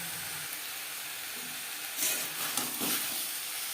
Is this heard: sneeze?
no